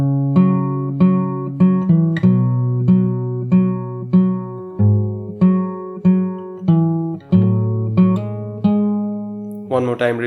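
Fingerstyle acoustic guitar plays the verse of a song, steady plucked notes and bass in a slow even rhythm, close and clear with no talking, ending on a brighter strum.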